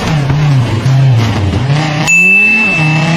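A Volkswagen car's engine revs loudly and close, pitching up and down in quick surges, with a brief squeal near the end in a short, intense burst and no speech.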